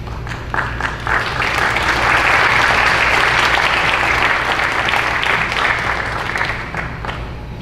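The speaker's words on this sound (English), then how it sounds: "You can applaud for Dr. Muller too." An award ceremony audience applauds students receiving a citizenship award, with dense, sustained clapping filling the room at steady loudness with a few sharper individual claps standing out.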